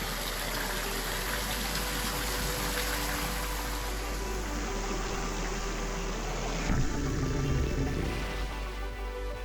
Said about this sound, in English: The sound of the upper waterfall was so peaceful